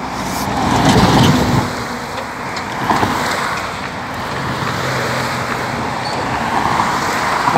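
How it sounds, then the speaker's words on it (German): Steady road traffic on a busy street in Hamburg, a continuous broadband roar of many cars passing close by, with a louder swell near the start and an even wash of engine and tyre noise throughout, no talk. "Noch sind zu viele Autos auf der Straße."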